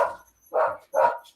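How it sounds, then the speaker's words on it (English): Dogs bark indoors in three short, loud woofs. The first woof is followed by a pause, then two more come in quick succession, with no voices. "We got barking dogs here."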